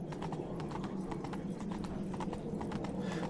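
Horse hoofbeats at a canter in the video game Witcher 3, a steady rapid clip-clop rhythm close up over continuous ambient game noise.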